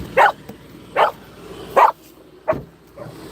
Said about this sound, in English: so that she won't be barking right in my ear and y'all's